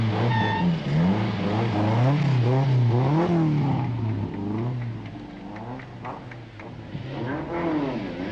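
A big Toyota rally car idles and blips its engine at the start ramp of a Kuwait international rally, a loud rumbling engine note rising and falling in repeated revs, steady and close throughout.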